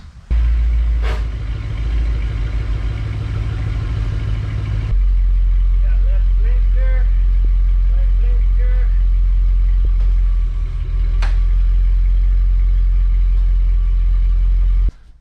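A Jeep WJ engine idles with a steady low rumble close by. The tone shifts once partway through, and a couple of sharp clicks cut through it.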